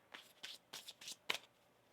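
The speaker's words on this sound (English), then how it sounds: "One more shuffle." Tarot cards being shuffled in quick bursts, five or six crisp riffling flutters with short gaps between them, close and fairly quiet, no voices.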